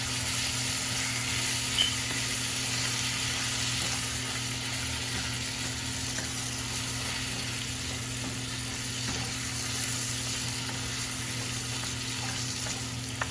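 Vegetables and spaghetti being tossed together in a frying pan sizzle steadily for a long stretch, with light scraping and stirring sounds and a low hum behind.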